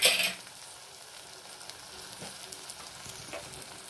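Green chillies and ginger garlic paste sizzle in a hot pan, with a loud initial burst of spatter that settles into a steady, quieter frying hiss with occasional pops.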